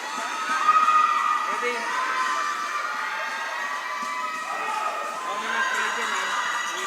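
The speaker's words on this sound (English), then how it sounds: "There you see the crowd of LOP Arovena supporting LOP Arovena." Home supporters at a youth basketball final cheer and shout together in a packed gym, a sustained roar of many voices with a louder burst early on, children's shrill yells mixed in.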